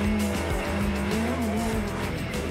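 A 175-horsepower, 490-kilo Radical SR1 sports car launches off the line with wheel spin, a loud, close engine roar under sustained tire squeal and skidding.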